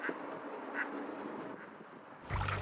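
Ducks quack on open water near a canoe, a few soft calls spaced apart at moderate distance over a quiet outdoor background, ending in a louder bump or rustle close by.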